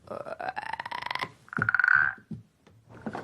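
Toads croak in a loud, throaty run of rising harmonic calls, then a sharper drawn-out croak follows, with quieter croaking afterward.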